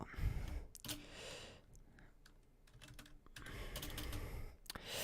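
Someone types on a computer keyboard while entering League One football scores, with close, irregular bursts of clicking and soft breathing between keystrokes.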